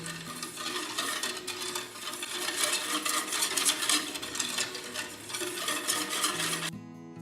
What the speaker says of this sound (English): Put the saucepan on the stove on low heat and mix continue